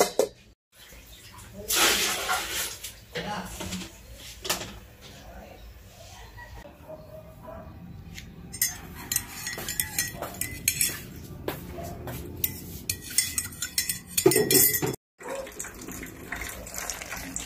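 A lid goes onto a cooking pot of paksiw na galunggong in a home kitchen, among clinking utensils, running water and metallic clatter, with a voice talking intermittently.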